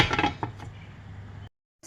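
A metal lid clatters and clinks onto a pan of simmering milkfish adobo in a quick burst of rattling contact, then settles with a brief hiss before cutting to silence.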